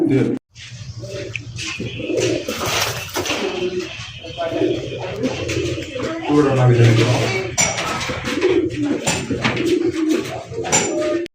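Colour King pigeons coo repeatedly at close range amid a busy pigeon sale, with people talking over them and occasional clatter.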